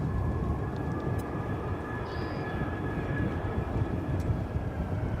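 Jet airliner taking off from a runway at DFW Airport, a steady broadband engine roar, distant to mid-range and continuous for the whole stretch, with no voices.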